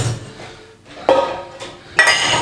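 Dishes and cutlery clattering as a dishwasher is loaded in a home kitchen, with a few sharp clinks and clanks at irregular intervals, close and fairly loud.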